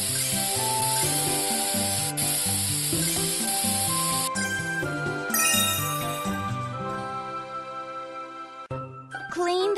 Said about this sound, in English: Spray to clean off the dirt.